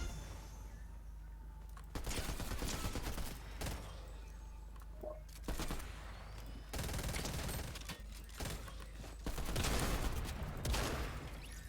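Gunfire in a video game shooter, repeated bursts of rapid automatic shots in clusters with short pauses between, sharp and fairly close, with game ambience underneath.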